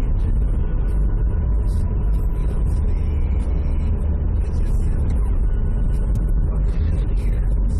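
Steady low road rumble from inside a moving car whose brakes and fittings rattle oddly, a continuous broadband drone filling the whole stretch with faint ticks above.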